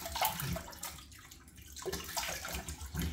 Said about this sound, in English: I'm going to wash my face with cold water now.